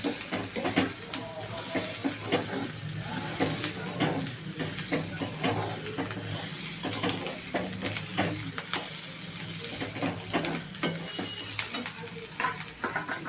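Garlic and ginger sizzle steadily in a hot iron wok, with continuous frying hiss and repeated stirring scrapes and clinks throughout, loud and close.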